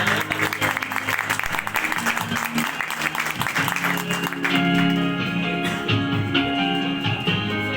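Applause from the audience at a software house's 13th anniversary event, a dense clatter of clapping that swells and carries on under music, with a brief lift partway through.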